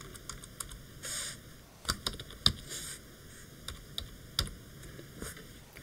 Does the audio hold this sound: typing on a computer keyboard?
yes